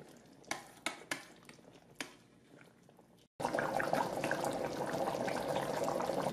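Chicken curry liquid bubbles on the saute setting in an Instant Pot Duo Mini, preceded by a few sharp clinks of utensils against the pot, then a steady loud sizzling simmer.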